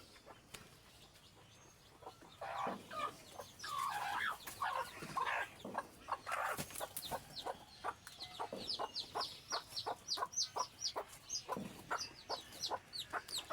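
Desi hens on a small poultry farm, clucking nearby in a busy run of short, rapid calls, with occasional louder squawks and a faint crow in the background.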